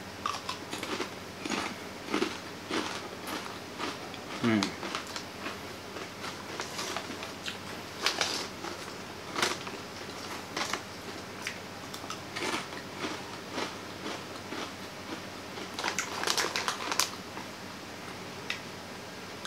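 Crisp, crunchy bites and chewing of thick, hard seaweed-flavored potato chips, irregular crackling snaps repeating close to the listener, with no talking.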